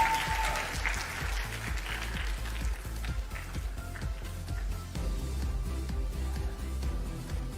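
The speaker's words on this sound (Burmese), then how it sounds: "လက်ခတ်နေပါတယ်" Audience applause at a Miss Universe Myanmar press conference, steady clapping from a crowd throughout, close and moderately loud, with a voice faintly talking over it.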